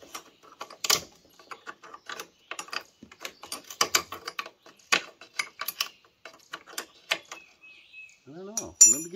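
Pliers work a rusted fastener while removing the bumper on a Ford F-150, giving a close, uneven run of sharp metallic clicks and scrapes with occasional faint speech underneath.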